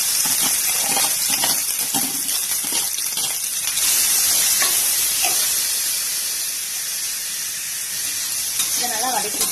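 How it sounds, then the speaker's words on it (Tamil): Onions and curry leaves sautéing in hot oil for egg bread masala, giving a loud, steady hissing sizzle that eases slightly toward the end, with occasional stirring scrapes. "இந்த வெங்காயத்தையும் கருவேப்பிலையும் சேர்த்து வதக்குவோம்"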